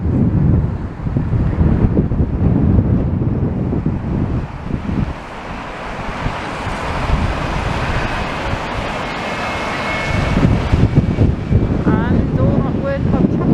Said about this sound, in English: Now you'll begin to hear the wind as I turn.